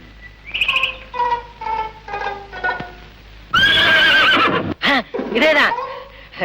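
A horse neighs with a clear, strong whinny that rises and falls, heard alongside comedic talk and bright chirps in a Tamil comedy scene.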